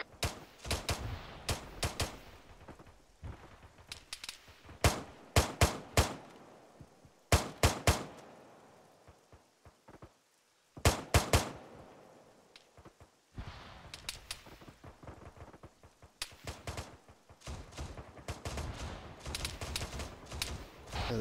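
Gunfire in the military shooter ArmA 3: sharp bursts and single cracks come in uneven clusters with quiet gaps between them, some near and loud, others more distant.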